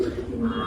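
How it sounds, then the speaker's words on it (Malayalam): Racing-lineage pigeons give a brief, soft coo at a loft, one low throaty call heard close. "ഇതാണ്ടോ രണ്ട് പ്രാവ് വരുന്നത്"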